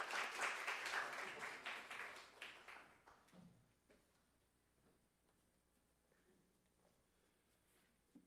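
A church congregation gathered for a youth worship service bursts into loud, dense clapping that welcomes a guest preacher, thinning into scattered claps after about three seconds and fading to near silence.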